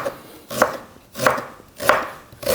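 Knife chopping fresh ginger on a cutting board, blade heel rocking through the root: four evenly spaced, crisp chops about half a second apart, close and fairly loud with no talk.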